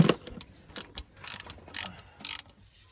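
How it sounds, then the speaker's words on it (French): Tools loosening the ground strap on a Subaru Impreza 2.0 diesel in a workshop: faint, intermittent ratcheting clicks come in short bursts, with small metallic knocks between them and no talking. "Et moi, je vais dévisser la tresse."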